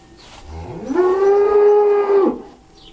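Dairy cow on a small homestead letting out a single long, loud moo that rises and holds steady before breaking off, close by with quiet surroundings.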